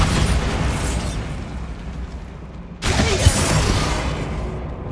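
The Bombarda blasting spell goes off in Hogwarts Legacy, a loud roaring burst of explosive noise that fades, then a second heavy blast erupts, both dense and rumbling with no voices.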